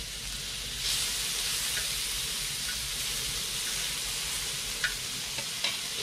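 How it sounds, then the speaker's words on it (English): Bream fillets with blackening seasoning sizzle hard in a little peanut oil in a hot wok, a dense, close frying hiss with a few stirring clicks and pops and no speech. "Sizzle."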